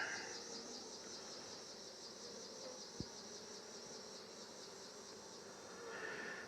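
A hive box of honey bees gives a continuous faint buzzing hum outdoors, with one brief knock partway through.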